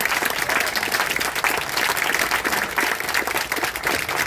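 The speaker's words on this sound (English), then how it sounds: "give him some applause" Mourners at a memorial life celebration give a steady, loud round of applause in honour of a late father, the dense clapping carrying on without break and with no speech on top.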